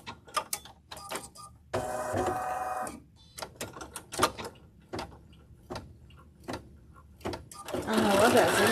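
Bernina Artista 465 sewing machine stitching a zigzag in short mechanical bursts of rapid ticking and whirring, close and clear, alternating with a person talking in between.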